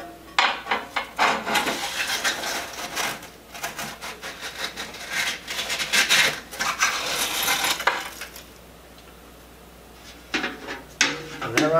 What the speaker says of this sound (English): I use my shovel some, I use my poker some, and we'll see how well we can get it out.